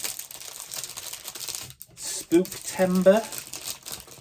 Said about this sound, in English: I'll stop crinkling